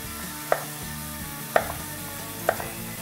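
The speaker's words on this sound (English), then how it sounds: "we are going to cut up some carrot and celery" A knife cutting carrot and celery on a board: three separate chops about a second apart, close and moderately loud over a quiet kitchen background, with no one talking.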